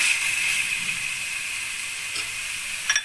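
Chicken pasta fries in a pan with a continuous close sizzling hiss and a few faint clinks near the end. No one speaks.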